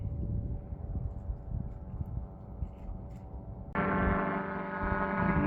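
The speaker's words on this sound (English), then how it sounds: "Got the paraglider zipping around this morning out there." Powered paraglider flying overhead in the desert at Quartzsite on a morning, a low rumbling engine drone with wind buffeting, then a louder, steadier buzzing motor tone that comes in abruptly and holds.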